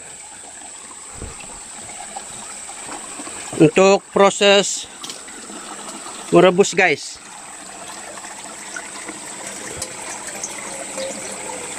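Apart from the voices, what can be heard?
water being taken from a stream for boiling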